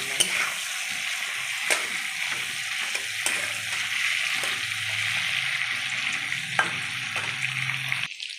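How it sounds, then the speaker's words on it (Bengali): Cauliflower florets and potato pieces, dusted with turmeric, fry in hot oil with a steady close sizzle, punctuated by a few sharp clicks of stirring against the pan. "আমার ফুলকপি আলুগুলো ভাজা হয়ে গেছে লাল লাল"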